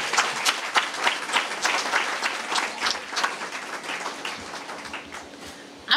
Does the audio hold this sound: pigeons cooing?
no